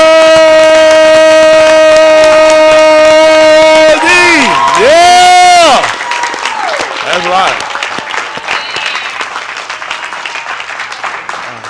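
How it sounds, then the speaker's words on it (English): Church congregation at a live-streamed service breaks into loud applause and cheering after a sustained sung note, clapping and whoops continuing as someone speaks over the crowd. "let's get ready to stand and give Mr. Yahuwah another hand clap"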